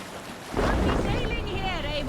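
Boat sailing on open sea in Assassin's Creed Valhalla, a steady rush of wind and waves surging in loudly after a quiet half-second, with a voice calling out over the water noise.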